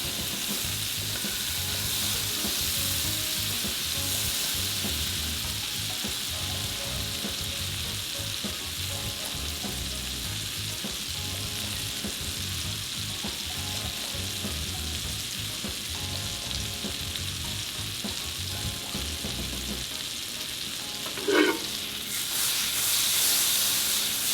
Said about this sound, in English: We want to cook at a medium-high temp, and that's just enough to get our butter slightly nutty in flavor